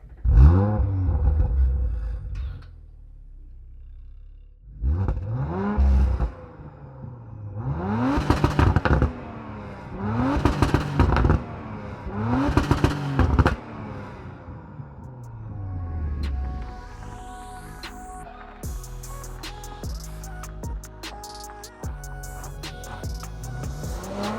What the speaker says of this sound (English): Let's do a little first drive, tell you a little bit more about the car and my feedback and my initial reactions to this Audi RS5